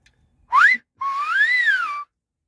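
A person whistles by shaping the tongue rather than using fingers, giving a short rising chirp and then a longer sustained note that swells up and falls back, clear and close with no talking.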